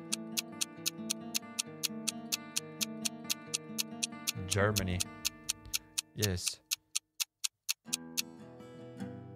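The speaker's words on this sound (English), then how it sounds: "This timer ticking is super loud." A countdown timer in a video game ticks loudly and evenly in sharp, regular clicks while a person speaks over it briefly.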